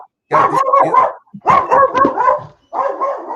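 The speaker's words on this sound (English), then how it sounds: "It's the little dogs." Small dogs bark and yap in three quick, loud bursts of overlapping yelps close by, with short pauses between them.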